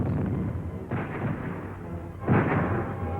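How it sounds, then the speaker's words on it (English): Heavy booms of artillery shells and hand grenades exploding in Spanish Civil War fighting around Madrid, two big blasts over a dense rumbling roar, loud and close, no voices. "The enemy counterattacks again and again, hurling shells and hand grenades."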